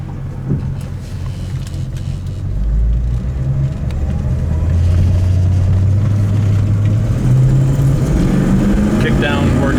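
A 1965 Ford Mustang GT accelerates hard on kickdown, its engine note building into a strong, steady roar that climbs in pitch as it pulls through the gears, close and loud inside the car.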